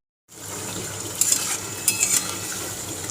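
Palm fruit fritters fry in hot oil with a close, steady sizzle that starts abruptly and keeps going. Light clinks of a utensil stirring in the pan come and go.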